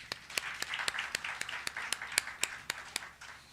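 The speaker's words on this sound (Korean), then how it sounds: "우리 하나님께, 그렇게 좋으신 하나님께 영광의 박수로 한번 먼저 올려드리겠습니다" A congregation at a company staff Monday worship service claps in a steady, evenly spaced beat, sharp unified claps riding over a softer wash of scattered applause in a roomy hall.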